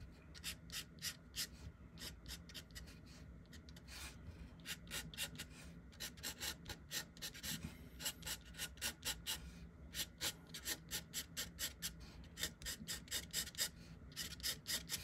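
Scratchy pencil strokes on paper lay in implied ground texture beneath a pumpkin-head Halloween queen drawing, a steady run of quick, close rasping strokes in rhythmic bursts with short pauses.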